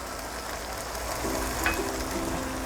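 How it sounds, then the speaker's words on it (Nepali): Chicken curry frying in a pan with three large spoons of yogurt being stirred in, a steady broadband sizzle with soft scraping of the stirring, close and continuous throughout. "यो दहीलाई यसमा मिक्स गरिदिउँ चिकनमा"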